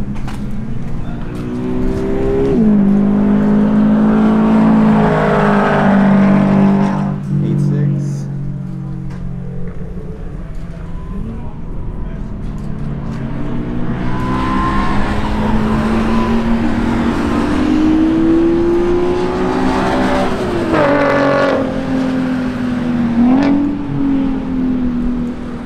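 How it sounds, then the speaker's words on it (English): Racing cars roar along a race track, engines rising and falling in pitch as they accelerate and pass, with a loud continuous drone throughout. "Let's go see some fast cars."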